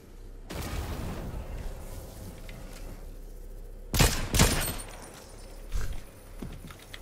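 Bursts of gunfire in the video game Fortnite, a sustained rattle with two sharp loud shots near the middle and a later single crack, over constant in-game background noise.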